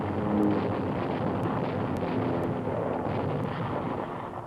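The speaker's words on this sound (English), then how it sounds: "The Tirpitz is mortally hit, but replies with everything, including 15-inch guns" Heavy naval gunfire from the battleship Tirpitz during an RAF air raid in Tromsø Fjord, Norway, a dense sustained rumble with sharp high cracks and wind-buffeted noise, no speech.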